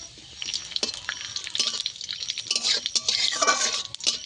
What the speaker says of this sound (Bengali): আমার ফোড়নটা ভালোভাবে ভাজা হয়ে গেছে।